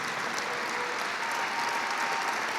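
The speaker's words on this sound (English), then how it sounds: "How about another round of applause for the ROTC from Perry Basha Castile and Allie Tam" Sustained audience applause for an ROTC group at a school district night of recognition, steady dense clapping at moderate loudness throughout, with no talking over it.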